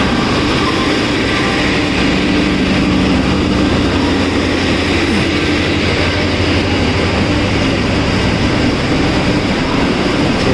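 A Garib Rath Express locomotive engine from Gomo roars in a loud, continuous, steady low rumble with broadband rail noise and no pauses or voices.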